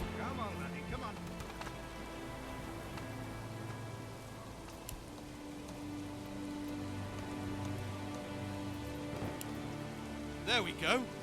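Steady rain patters across a Manor Lords medieval village in May, a constant soft hiss with droplets, under a low musical drone and faint scattered ambient sounds.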